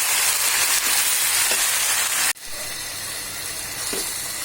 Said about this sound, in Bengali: এটাকে আমি হাই হিটে এখন ভাজি করছি